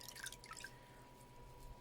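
Water drips and dribbles onto a Bounty paper towel, a few soft, close drops in the first half-second, then a faint, quiet hiss.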